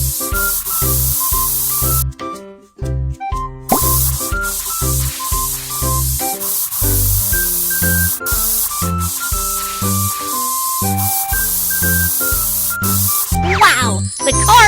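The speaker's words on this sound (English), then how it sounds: "Then spray the steel plate with paint." Spray paint hissing onto a steel plate in a children's car repair game, a steady broad cartoon spray hiss under a bouncy background tune, briefly cutting out before resuming, with a bright flourish at the end.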